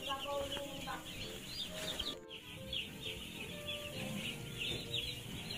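Six-day-old chicks and chickens in a brooder pen keep up a steady, dense chorus of high peeping and clucking, close and continuous throughout.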